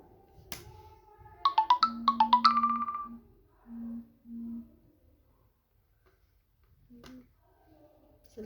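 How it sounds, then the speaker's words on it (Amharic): A phone ringtone plays a bright, rapid melodic burst of tones followed by a few lower sustained beeps, clear against a quiet room. "ስልክ ተደወለ"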